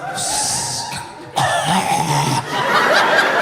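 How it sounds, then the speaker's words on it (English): A few harsh, loud coughs up close, the last bursts a bit rougher and more drawn out. "That was a cough."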